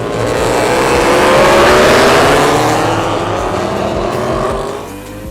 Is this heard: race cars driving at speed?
yes